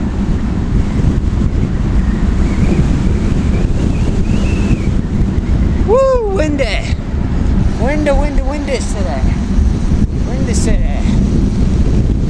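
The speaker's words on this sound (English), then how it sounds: "Windy today." Strong wind buffets the microphone while riding a commuter bike, a loud continuous roar and rumble, with a voice speaking briefly over it.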